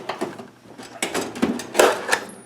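A metal tool drawer slides open in a small home garage, giving a few close clunks and rattles of loose hardware, spread across a couple of seconds with quiet gaps between them.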